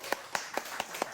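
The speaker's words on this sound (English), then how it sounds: "This applause is for you." Applause in a pub, heard as five sharp, evenly spaced hand claps in quick rhythm, close and moderately loud, with no talking over them.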